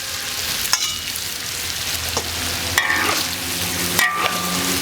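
Bamboo shoots and sliced pork stir-fry with green and red chilies in a wok, a loud constant sizzle with occasional sharp spatula clanks and scrapes, close up and without speech.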